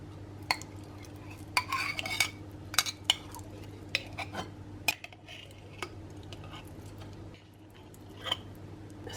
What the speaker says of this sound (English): So I've added in the whole jar of marmalade